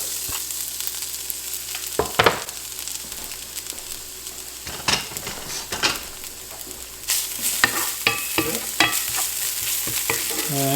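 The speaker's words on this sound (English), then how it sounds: "So now I'm going to fry this ginger and garlic together." Ginger and garlic fry in olive oil in a cast iron pot, a constant close sizzle broken by sharp spatula scrapes and knocks against the iron, with no talking.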